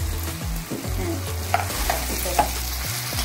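Brinjals stir-fried with onions in a pan for stuffed brinjal curry, a continuous close sizzle with steady scraping strokes of the spatula and a few sharper metallic taps.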